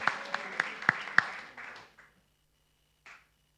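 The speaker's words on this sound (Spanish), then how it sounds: "Un aplauso a un joven que pregunta." Short burst of applause from an audience at a Q&A on mental health, honouring a young person who asks a question; a few sharp claps ring out over a patter that fades within two seconds, then quiet apart from one faint brief rustle.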